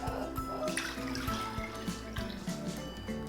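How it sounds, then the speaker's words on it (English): Liquid pouring and splashing into a pot, with faint drips and light clinks of cookware close by. "I'm going to pour it into a little saucepan here"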